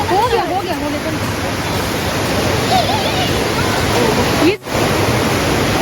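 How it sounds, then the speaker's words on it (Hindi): A waterfall roars steadily in a jungle near Shakleshpur, a loud, dense rush of falling water filling the whole scene, with faint voices barely rising above it and one brief dip in the noise. "पानी की आवाज़ इतनी ज़्यादा थी इस जगह पे कि सबको डर लग रहा था"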